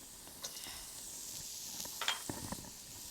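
Lemongrass and galangal roots being stir-fried in a pan for a spicy Khmer tofu dish give a soft, steady sizzle, broken by a few brief scrapes and clicks of stirring.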